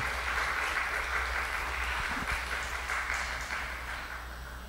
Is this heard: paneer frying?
no